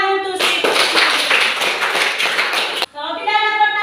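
A short burst of students clapping in a classroom, a couple of seconds of close, rhythmic applause, with a voice speaking just before and right after.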